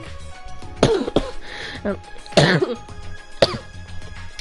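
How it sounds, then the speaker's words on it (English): Several short, harsh coughs from a character in the video game Danganronpa V3: Killing Harmony come in quick bursts, close by, with brief pauses between them. "Sorry, I have a bit of a cough."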